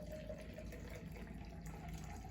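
Water poured from a tap into a drinking glass to fill it about halfway, a steady low rushing splash that runs without a break and sits fairly quiet and close.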